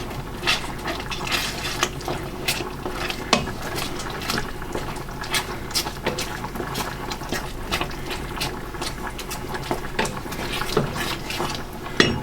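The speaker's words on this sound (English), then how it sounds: "As you can see, that's bubbling away, so this cheese will melt nicely." Cheese sauce for a reduced-fat vegetarian mac and cheese bubbles steadily in a pan, a continuous wet simmer dotted with frequent small pops and sputters across the whole stretch, fairly close and with no one talking.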